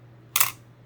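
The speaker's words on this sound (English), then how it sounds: "The shutter sound is so wonderful. Let me give you guys a good sampling of it." One crisp, quiet shutter release on a Pentax SV film camera, a brief light click close to the mic in a quiet room.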